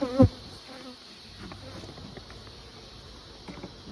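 Bees buzzing around an opened beehive as it is smoked. A low, continuous hum sits close to the listener, and a brief louder thump comes near the start.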